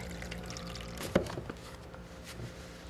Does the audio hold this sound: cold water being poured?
yes